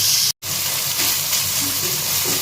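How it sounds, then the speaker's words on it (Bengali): Chicken frying with chili flakes in a pan, a loud, dense, continuous sizzle broken by one brief dropout, heard up close with no speech. "এখন এটাকে আগে 2 মিনিট ধরে একটু ভেজে নেব।"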